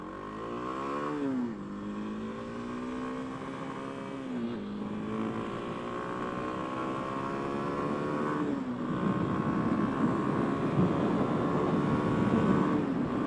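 A 2024 Kawasaki KLX 300SM motorcycle ridden at highway speed with no windshield, its single-cylinder engine droning steadily and shifting up through gears under loud, rushing wind noise that builds toward the end.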